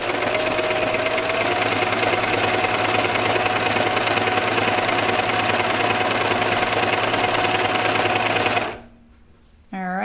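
A domestic sewing machine stitching a knit Lucida dress runs at a steady, loud, rapid mechanical whir with a faint whine, then stops abruptly near the end, leaving quiet with a soft trailing tone.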